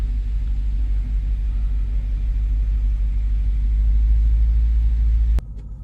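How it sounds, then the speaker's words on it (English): A 2017 BMW Alpina B6 Gran Coupe idles after a cold start with a deep, steady low rumble that builds slightly, then abruptly drops to a quieter idle near the end. "There's your cold start. Idles down pretty quick."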